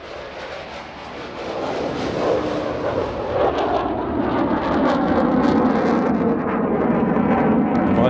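A Typhoon fighter jet roars overhead in a flying display at the Farnborough Airshow 2016, with a broad, rushing engine noise that swells louder and stays intense, rumbling continuously without pause.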